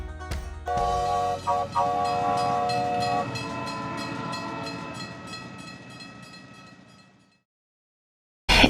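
A train rumbles past with steady clickety-clack, a loud horn blasting for a few seconds early on, the rumble fading away before a sudden thump at the end.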